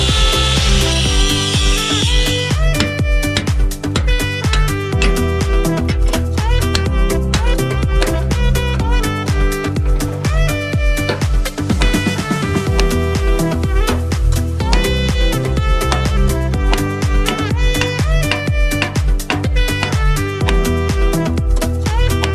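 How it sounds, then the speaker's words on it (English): Loud, continuous high-pitched grinding of a cutoff wheel slicing rivet heads off a Super Duty axle during an axle swap, steady metal cutting close up with slight pitch wavers and no talking. "take our cutoff wheel, and on this one, it's super easy to just come from the side and cut the heads off"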